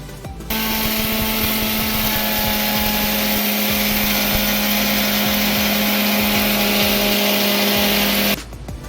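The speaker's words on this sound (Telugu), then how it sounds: "దీన్ని ఇప్పుడు మిక్సీ జార్లో వేసుకుని మెత్తటి పౌడర్లా చేసుకోవాలి" A kitchen mixer grinder runs steadily for about eight seconds, loud and close, as roasted toor dal is ground into a fine powder, its motor whine constant from start to stop with no talking.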